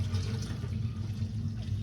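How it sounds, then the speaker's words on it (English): Milk pours steadily into a container to feed a newborn calf on a small dairy farm, a soft continuous liquid rush with a low background hum, close and fairly quiet, no talking. "I'm pouring baby Rose's milk for Ella"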